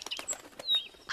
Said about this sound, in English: the angry chirping and cawing was particularly bad